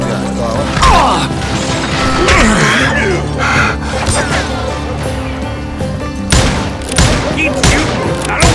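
Gunfire from the Wild West shooter Call of Juarez: Gunslinger, with repeated loud, close shots and crashing impacts bursting throughout, spiking sharply near the start and again near the end over a dense game soundscape.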